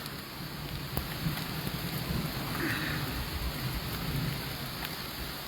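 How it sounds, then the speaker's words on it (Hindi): Light rain falls in Tangmarg near Gulmarg, Baramulla district, as a steady, close hiss with scattered drop ticks and a low rumbling undertone, heard without any voices. "ये देखिए फ़िलहाल अब तो हल्की हल्की बारिश हो रही है"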